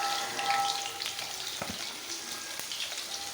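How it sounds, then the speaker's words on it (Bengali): An egg fries in hot oil in a pan, giving a steady, close sizzle with crackling pops throughout and no voices. "এবার ডিমটাকে কিন্তু আমি ভেজে নেব।"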